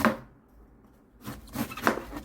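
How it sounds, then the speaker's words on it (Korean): A kitchen knife slices washed cabbage into thin shreds on a cutting board for vegan okonomiyaki, giving a few close, crisp cutting strokes after a brief pause. "사실 칼질을 잘하진 못해요. 그래서 최대한 얇게 썰으라는"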